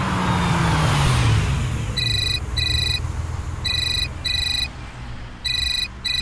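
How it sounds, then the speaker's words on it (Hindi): A telephone ringtone chirps in short, bright paired bursts, repeating three times over a steady background of passing road traffic, with no talking. "मैं फोन रिसीव करके आता अच्छा।"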